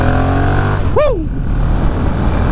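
Motorcycle engine droning steadily while riding, with a brief rising whine from the revving, continuous and close throughout.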